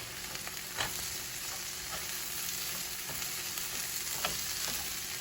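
Jicama stir-frying in a pan with green beans and chicken, a steady broadband sizzle throughout with a few soft stirring clicks and scrapes, close and even in level.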